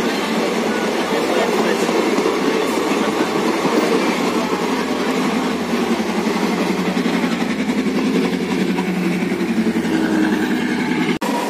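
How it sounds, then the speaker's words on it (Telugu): A passenger train on the Hyderabad to Nizamabad line, waiting near a crossing at Malkajgiri, gives a steady loud rumble of rail cars and engine under continuous cabin noise, with people talking faintly. "ట్రైన్ వెయిట్ చేస్తుంది ఇక్కడ మల్కాజిగిరిలో"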